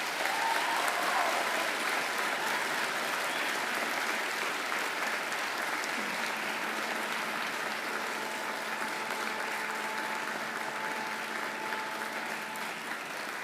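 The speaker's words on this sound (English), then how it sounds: "And now I invite you to give them a mighty round of applause." A large audience at a Macquarie University graduation ceremony applauds, a dense, steady roar of clapping that holds evenly throughout and fades only slightly near the end.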